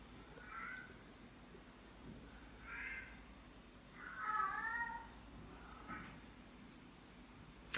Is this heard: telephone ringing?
no